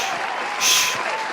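An audience at a live radio show event gives a brief burst of clapping that swells for a moment and fades, heard fairly near against a busy background of crowd noise.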